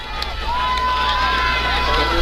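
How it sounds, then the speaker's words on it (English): At a high school football game, a crowd cheers with a sustained roar of voices. A commentator talks over it, and a whistle-like tone rises and holds in the middle. "Eagles crowd is coming to life."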